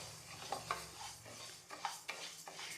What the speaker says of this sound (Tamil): பாசிப்பருப்பு நல்லா வறுத்துக்கோங்க. கருகிடக்கூடாது.